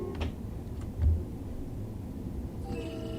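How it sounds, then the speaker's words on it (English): Simulated Harlem Line commuter train running in Train Sim World 3, a steady low rumble of wheels and motor throughout with a brief heavier thump near the start and faint tonal whine toward the end, no talking. "Love the sound of this train."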